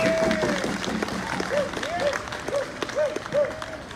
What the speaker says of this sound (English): Let's give a round of applause for the organizers.